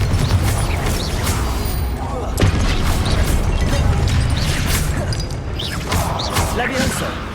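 Confringo blast curse exploding in the Hogwarts Legacy video game, a loud burst near 2.4 seconds within a dense, continuous wash of game effects and clattering mechanisms, with voices over it.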